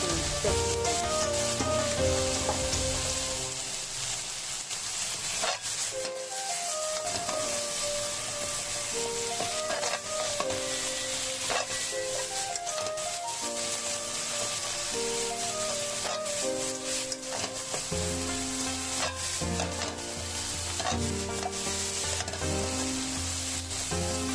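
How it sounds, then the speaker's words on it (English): Bitter melon stir-frying in a pan, a continuous bright sizzle with scraping stirs of the spatula throughout, close and steady with no talk. "Once it's stir-fried to this extent, the bitter melon from earlier has released some moisture"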